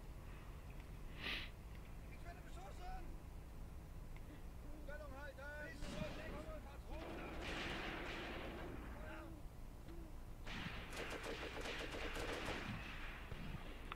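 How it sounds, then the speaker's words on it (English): In the Graviteam Tactics war game, an MG42 machine gun fires in short rattling bursts among distant artillery booms and battlefield noise, with someone talking over much of it. "my MG42 is opening up at something as well"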